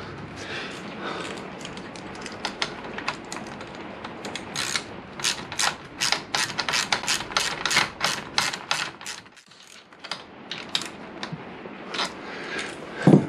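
A brake line fitting is threaded on a Honda VFR800 VTEC during stainless braided hose fitment, making a close, rapid run of ratcheting metallic clicks that pause briefly and then resume.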